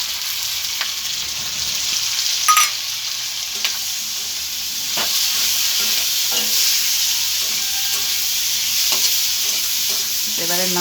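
Turmeric, chili and roasted spices sizzle steadily in a hot pan for a sour crab curry with green hog plums, with a spoon scraping and stirring in irregular strokes close by.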